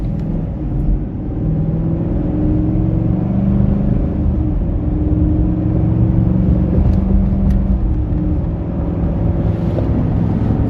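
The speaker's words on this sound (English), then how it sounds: "So I'm going to accelerate from a dead stop up this hill." A 2023 Ford F-150 XLT with the 5.0 V8 Coyote engine accelerates from a stop up a gentle hill, giving a steady, low engine rumble from inside the cab, with subtle rises as the transmission shifts and no talk.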